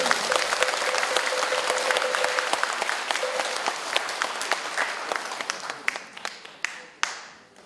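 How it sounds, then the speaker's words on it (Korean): Applause from the congregation at a Korean Buddhist eye-opening ceremony, loud dense clapping at first that thins into scattered individual claps and dies away, with a voice briefly heard. "다시 한번 큰 박수 부탁드립니다."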